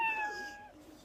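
A voice imitates a cat with a single drawn-out meow, up close, that slides downward in pitch and fades out.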